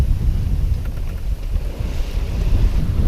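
Steady, loud wind roars across the microphone on a sailboat at sea in an 18-knot breeze on a broad reach, a continuous low rushing with water noise beneath and no voices.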